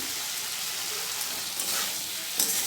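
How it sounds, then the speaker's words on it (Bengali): Spice paste and potatoes frying in a pan as they are stirred, giving a steady close sizzle with a few louder scrapes and spatters, and no talk. "এখানে মশলা কষাচ্ছি আলু দিয়ে"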